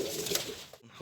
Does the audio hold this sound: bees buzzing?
no